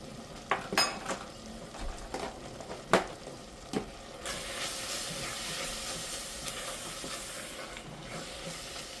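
A butter chicken spice paste with garam masala and cardamom sautés in a pot: a few spoon clinks and scrapes against the pot, then a steady, soft sizzle builds and holds.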